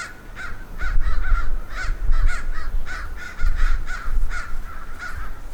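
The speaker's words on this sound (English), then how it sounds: "Oh, knock it off, you stupid crows." Several crows caw repeatedly near a truck being repaired outdoors, harsh calls arriving in quick irregular bursts of two or three over a low background rumble.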